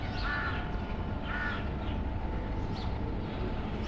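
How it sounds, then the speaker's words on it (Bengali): Crows cawing in short repeated bursts as a flock circles above a rooftop garden in the morning, the calls moderately distant over a steady low background rumble. "এক ঝাঁক হয়ে পাখিগুলো ঘুরছে"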